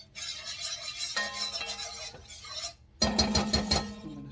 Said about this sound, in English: what I'm going to do right now is add my chopped vegetables in here